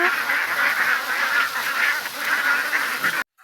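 A crowd of farm ducks quacks continuously and loudly at close range, the overlapping nasal calls forming a dense, rhythmic chorus that stops abruptly near the end, with no talk over them.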